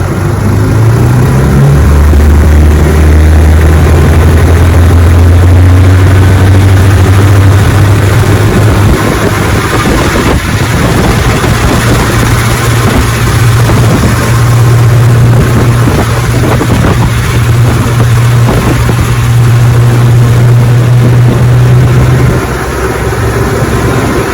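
A 1958 outboard motor pushes a 14-foot Feathercraft boat, droning loudly and steadily near at hand with a low, even hum that shifts in pitch partway through and holds for the whole stretch, with no talking.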